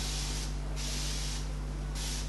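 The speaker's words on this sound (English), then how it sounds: "I'm just gonna take my bottle with water and I'm just gonna spray it directly under here." Three quick hissing bursts of a spray bottle of water, close by, spaced roughly evenly over a couple of seconds above a steady low hum.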